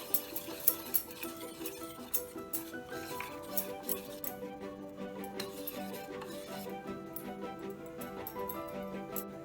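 Dosa batter with half a spoon of baking soda stirred in a bowl, a soft close scraping and swishing with light clinks of a spoon against the rim, busier at first and then steadier and quieter, with no voices.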